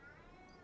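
A house cat gives a single short meow, faint and fairly close, over low background noise.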